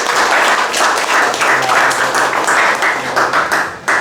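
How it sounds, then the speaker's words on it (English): A studio audience applauds to welcome a guest, a two-time UAP women's basketball MVP: dense, steady clapping that stays loud for about four seconds, with no voices over it. "Round of applause, please, for"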